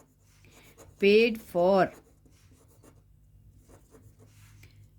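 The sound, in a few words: writing with a pen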